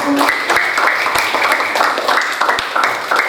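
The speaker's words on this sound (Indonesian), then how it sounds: "Tepuk tangan dulu" Steady applause from a class group, with dense clapping that goes on throughout at an even level.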